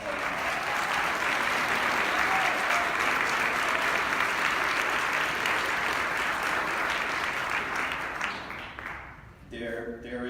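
An audience at a talk on abolishing war applauds a speaker, a full, sustained wash of clapping that holds steady for several seconds, then tapers off as a voice begins speaking near the end.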